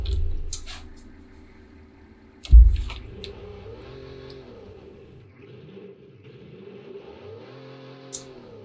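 A car engine in BeamNG with an arcade gearbox revs and holds slowly between gear changes, a moderate droning whine with a sharp thump near the start and rising and falling pitch.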